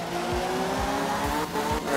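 Rally car in the game Art of Rally accelerating hard with tire squeal, a loud, close engine rising in repeated pulses as it shifts gears, with no talk over it.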